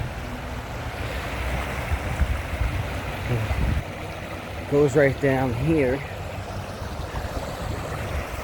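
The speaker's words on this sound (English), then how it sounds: "Nice little waterfall." Steady rushing water from a small waterfall and creek runs throughout, with someone talking briefly over it partway through.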